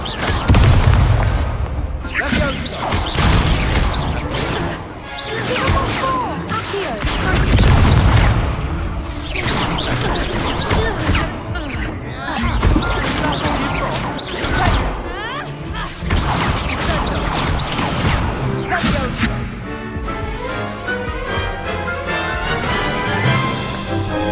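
Blasting spell explosions in Hogwarts Legacy, a rapid run of loud booms and crashes over several seconds with a voice shouting spell names between them.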